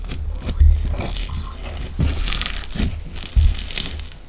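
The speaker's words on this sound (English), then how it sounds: "It's so crunchy." Crunchy slime squeezed and pressed close up, giving repeated crackling, crinkling crunches in uneven bursts with soft low thumps, and no talking.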